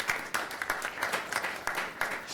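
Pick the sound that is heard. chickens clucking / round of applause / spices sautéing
round of applause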